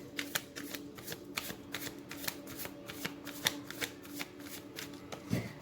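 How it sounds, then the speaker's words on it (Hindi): Tarot cards being shuffled by hand, a steady run of crisp riffling flicks and soft slaps, close and fairly quiet, with no voices over it. "पहले हम कार्ड्स को शफल कर लेते हैं"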